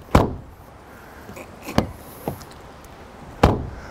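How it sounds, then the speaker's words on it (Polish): The doors of a Mazda CX-60 diesel slam shut several times, sharp solid thuds spaced apart, with lighter clunks in between and a quiet background. "ponieważ drzwi się inaczej zamykają."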